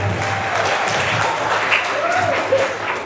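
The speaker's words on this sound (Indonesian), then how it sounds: "Tepuk tangan buat teman-teman semua." School students burst into a dense round of applause at an entrepreneurship seminar in a school hall, loud, close and continuous for a few seconds.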